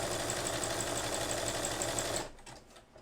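Sewing machine stitching embroidery calligraphy, a fast steady mechanical whir and patter for about two seconds, close and loud, then stopping abruptly into quiet handling noise.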